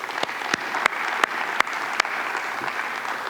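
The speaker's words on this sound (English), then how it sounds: "let's give them a round of applause as well" A crowd at an investors' conference applauds steadily, with scattered sharper claps popping out above the dense, continuous patter of many hands.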